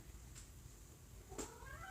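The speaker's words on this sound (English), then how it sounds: "Excuse my cat in the background." A cat in the background lets out one brief, faint meow near the end, distant and alone against low room noise.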